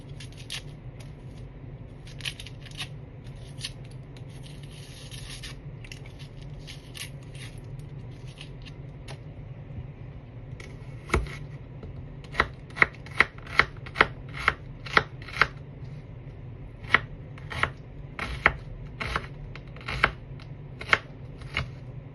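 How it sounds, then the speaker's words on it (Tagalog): An onion is chopped into small pieces with a knife on a board, sharp crisp taps that start sparse and become a quicker, irregular run in the second half, close and fairly clear over a low background hum. "So, in-next ko naman tong onion. Hiwain ko lang siya ng"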